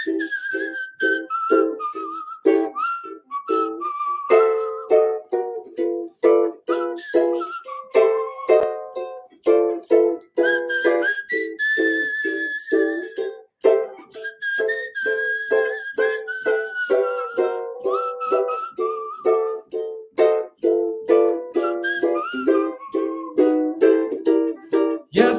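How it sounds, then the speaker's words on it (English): A melodic whistling solo on a record, sustained and bending in pitch with a steady rhythmic accompaniment underneath, playing continuously and fairly loud without any talk. "It's a good whistling solo on the record."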